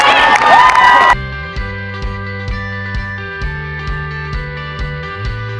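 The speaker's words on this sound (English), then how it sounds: "the crowd went wild" A crowd at a girls' basketball game cheers loudly in a short burst, then it cuts off sharply and gives way to a rhythmic tonal musical pattern.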